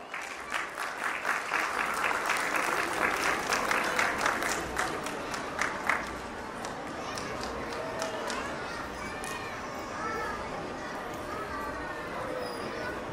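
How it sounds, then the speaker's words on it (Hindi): Audience at a school annual function applauds, with dense steady clapping for about six seconds that then thins to scattered claps, voices murmuring beneath. "तालियां बजती रहनी चाहिए।"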